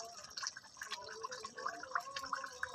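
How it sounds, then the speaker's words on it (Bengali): Kewra water trickling into cooking chicken chaap, a quiet close run of small drips and liquid splashes with faint bubbling. "এবার আমি এর ভেতরে দিয়ে দেব কেওড়া জল"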